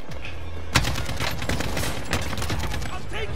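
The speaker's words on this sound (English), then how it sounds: "I'm taking fire!" Dense automatic gunfire in a duos battle-royale video game erupts suddenly and keeps rattling in rapid bursts, with occasional louder booming shots, while a voice speaks faintly under the shooting.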